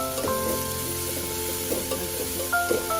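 Bay leaves sizzle in hot oil for Nagpur-style tarri poha, a steady crackling fry with clinks and scrapes of a utensil against the pan.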